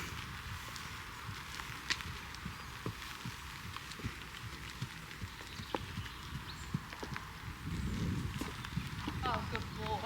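Hooves of a newly acquired horse under a rider during solo schooling, a steady run of clip-clop footfalls at close range over a constant outdoor background, growing heavier near the end.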